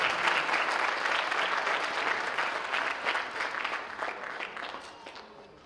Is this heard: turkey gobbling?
no